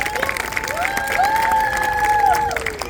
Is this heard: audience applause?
yes